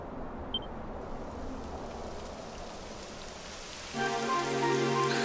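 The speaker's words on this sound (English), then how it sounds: "It would have to go and start raining, wouldn't it?" Steady hiss of rain falling in the video game Dragon Quest XI: Echoes of an Elusive Age, with sustained tonal sounds joining in partway through.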